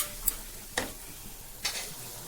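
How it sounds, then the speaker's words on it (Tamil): A thick urad dal kali stirred continuously in an oiled pan, with three sharp scraping strokes spaced apart over a faint, steady sizzle, heard close up with no voices. "இன்னும் நல்லா கைவிடாமல் கிண்டிகிட்டே இருங்க"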